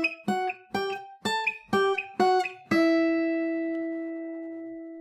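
Dark folk acoustic guitar playing a harmonic minor octave sequence: six quick plucked octave pairs in an even rhythm, then a final octave left to ring out and slowly fade, close and clean with no talking.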